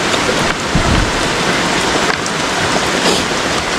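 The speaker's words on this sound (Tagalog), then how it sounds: "Lakas po ng ulan." Heavy rain pounds down outdoors in a dense, loud, unbroken roar of drops striking surfaces, with no voices over it.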